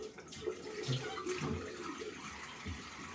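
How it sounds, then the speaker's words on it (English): Cold water running from a tap into a basin, a continuous soft splashing and gurgling at close range, fairly quiet with no voices. "I've now half filling the basin with cold water"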